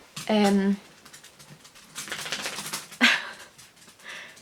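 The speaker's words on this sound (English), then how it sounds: "there are some chihuahuas in this video" Chihuahuas yip and whine indoors, a sharp bark near the start and another short burst later, mixed in with a person talking over them.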